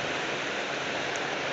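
Tap water runs steadily over an avocado being washed, a smooth continuous broadband rush with no breaks and no voices.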